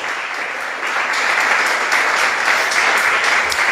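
A church congregation gives the Lord a round of applause during a Thursday evening service, a loud, dense, steady wash of many hands clapping that carries on without a break and swells slightly partway through.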